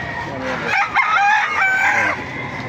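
Gamefowl rooster crowing at a market, a loud, close cock-a-doodle-doo with clucking fowl around and faint talk in the background.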